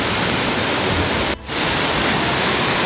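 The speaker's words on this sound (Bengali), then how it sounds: "পানির গর্জন, প্রচণ্ড পানির গর্জন হচ্ছে" A powerful waterfall roars in the hills of Meghalaya near a living root bridge, a loud, steady wash of rushing water that drops out for a brief moment before surging back.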